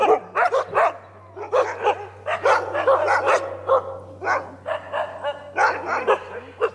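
Several huskies bark and yip repeatedly in bursts, fairly close, over a steady low hum in the background, with brief whimpering between barks.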